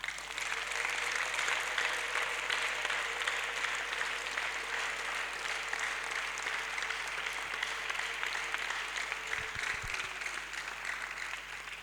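A church congregation claps and applauds during a prayer service, a dense, continuous wash of hands sustained at moderate distance for several seconds, with faint talk underneath.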